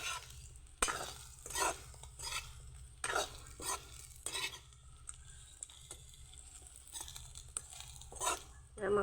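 Local chicken meat sizzles in a pan, close and soft, broken by repeated scraping strokes of stirring at an uneven rhythm.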